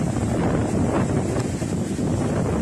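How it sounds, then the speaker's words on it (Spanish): Strong hurricane wind from Hurricane Eta roars steadily as close, constant buffeting across the microphone, a dense unbroken rush with surf likely mixed underneath and no voices. "Está bien fuerte el viento"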